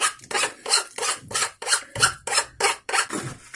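A hand file rasps back and forth across the cut edges of plumbing pipe to remove burrs, about nine steady strokes in an even rhythm, close and clear with no talking.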